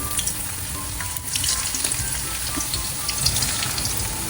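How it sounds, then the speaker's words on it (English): Oil sizzles and crackles steadily in a pan as potato pieces fry, close up with no talking. "So we're gonna fry this potato slowly"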